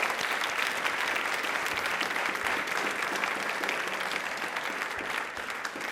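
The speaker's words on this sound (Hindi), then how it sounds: "तालियां दिल से एक बार जोरों से बजा दीजिए।" Audience applauding at a Rajasthan quiz programme, a steady, dense wash of many hands clapping that holds evenly throughout and thins slightly at the end, with no talk over it.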